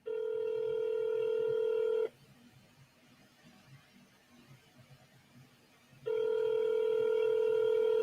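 Two long electronic ring tones of a phone call, each about two seconds, separated by a pause of faint background noise.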